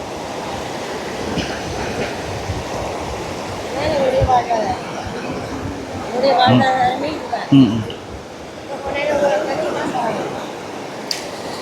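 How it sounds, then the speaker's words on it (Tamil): Fast river water rushing under a broken bridge in Mullaitivu, a broad continuous roar with surging swells, heard outdoors while someone talks over it. "இந்த பாலத்தால் வந்து தண்ணி எவ்வளோ வேகமாக போகிறத பார்க்கக்கூடிய மாதிரி இருக்குது"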